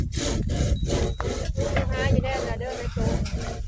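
Hand saw cutting wood with a new blade to be fitted with a handle, rhythmic rasping back-and-forth strokes about twice a second, close by, under light background voices.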